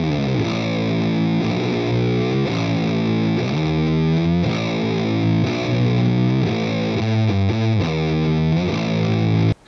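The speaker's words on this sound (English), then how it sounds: "If I want to freak out and play some Doom, I'll turn a fuzz pedal on like this" An electric guitar played through a fuzz pedal for doom-style riffs, thick and saturated with rich sustained harmonics, loud and continuous chords sliding and changing across the phrase, no talking.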